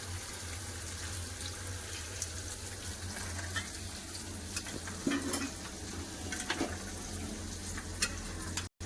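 Water poured into a pan of sizzling meat and potato curry gives a steady hiss and gurgle with light stirring clinks, fairly close, with no talk.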